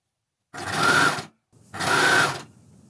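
A coverstitch machine sews double fold binding onto a garment armhole in two steady, loud bursts of rapid stitching about a second each, separated by a brief pause, close up with no voices.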